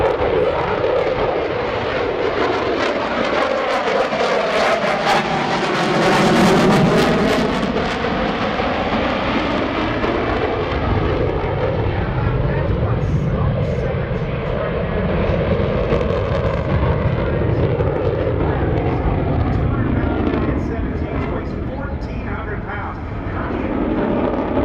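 F/A-18F Super Hornet jet in an airshow demonstration at NAS Oceana in 2017, a loud roaring pass with a rising and falling engine sweep that swells midway and rumbles on, with an announcer talking over it.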